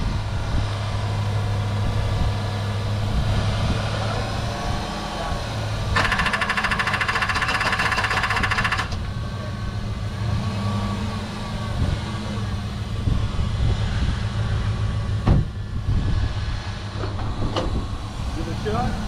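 A 1984 Chevy truck that has sat dead for two years is cranked over, its starter churning in a rapid rhythmic chug through a low steady drone, with people talking nearby.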